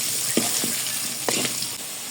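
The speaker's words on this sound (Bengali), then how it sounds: "লাল লাল করে আলুগুলো ভাজতে হবে" Potatoes fry in hot oil with salt and turmeric, giving a steady close sizzle, with a few sharp scrapes or clinks from stirring.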